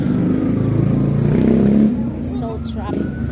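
London street traffic rumbles nearby as a car engine swells and passes, with a voice talking over the noise.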